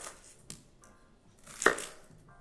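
A knife cuts thin onion slices on a board for a pho garnish, giving a few soft scattered taps and one sharper crisp cut near the end, close and quiet with no talk.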